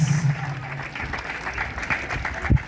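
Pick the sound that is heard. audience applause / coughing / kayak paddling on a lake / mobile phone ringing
audience applause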